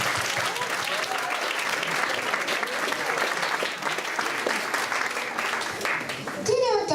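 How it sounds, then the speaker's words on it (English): Steady audience applause fills the room for several seconds after a stage performance, a dense continuous wash of clapping heard up close without a break. "applause to our performance."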